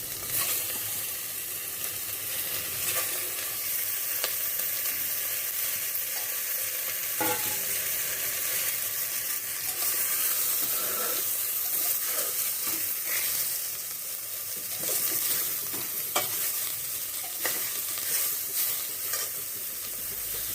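Mutton fries in ghee in a pan with a constant hissing sizzle, while a utensil stirs it with scattered scraping and clicking touches over roughly twenty seconds.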